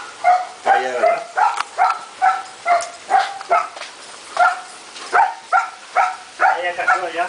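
A female dog on a farm gives a run of loud, close barks at a regular pace, some high and yelping, with short pauses between them.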